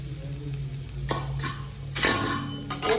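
Fresh grated coconut is sautéed in ghee with roasted poppy seeds in a pan, a soft sizzle under occasional scraping and clinks of a spoon, close by, with no voices.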